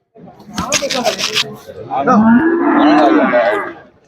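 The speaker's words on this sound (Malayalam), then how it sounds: "ആ കാളക്കുട്ടി" A bull calf moos loudly in a long drawn-out call among cattle, preceded by people talking and some shuffling nearby.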